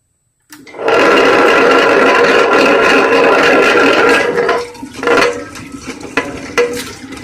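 A wet grinder switches on to grind soaked urad dal with cold water for idli batter. It starts with a sudden loud, steady whirring drone, then turns uneven and rattly toward the end, with no talk.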